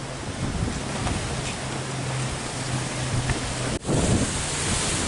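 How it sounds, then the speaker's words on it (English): Strong wind blasting across a microphone at the beach, a dense, steady roar of buffeting noise with the rumble of surf mixed underneath, continuous and close throughout with one brief dropout near the end. "the wind's super bad, so I'm not going to show it all"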